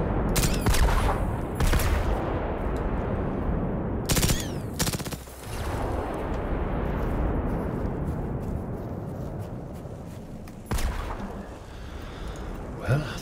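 Gunfire and bomb blasts from the video game Generation Zero: heavy bursts of automatic fire and loud explosive cracks break out repeatedly over a dense rumbling roar, close and intense throughout.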